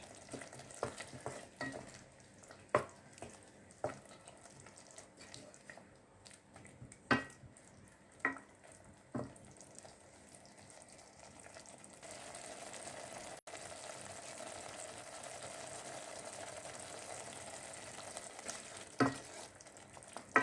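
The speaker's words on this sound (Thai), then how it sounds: "เมื่อใส่เนยแล้วนะคะก็คนผสมให้เข้ากันค่ะ" Unsalted butter melting in a pan for homemade pizza sauce, stirred with scattered scraping taps of a utensil over a soft frying sizzle that grows steadier and louder toward the end.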